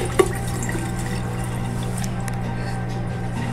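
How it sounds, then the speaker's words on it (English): Water runs steadily from a sink tap in the video game Roblox, a continuous even hiss over a low hum, with one small click near the start. "Just drinking a water bottle at the sink."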